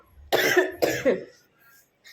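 Two sharp coughs in quick succession from someone unwell with a seasonal cold, close and fairly loud, followed by near silence.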